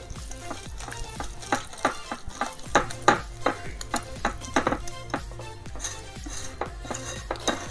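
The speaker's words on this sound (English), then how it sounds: "Just whisk gently as you scrape the sides of the bowl." Crepe batter is whisked gently in a bowl, with a quick, irregular run of soft clinks and scrapes of the whisk against the sides, close up and fairly quiet.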